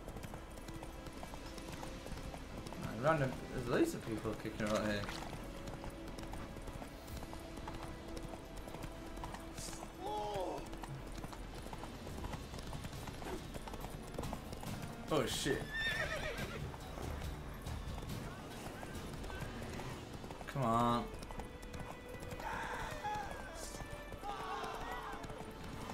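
Horse hooves clip-clop and a horse neighs in The Witcher 3, with rhythmic hoofbeats and several whinnies mixed with game ambience while someone talks over it.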